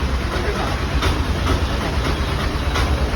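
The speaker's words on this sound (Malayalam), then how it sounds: "ചേട്ടാ ഒന്ന് സ്പീഡ് പോകണം, ട്രെയിൻ വരുന്നുണ്ട്." A train passes close by with a loud, steady rumble and rattling wheel noise that stays constant throughout, with no talk over it.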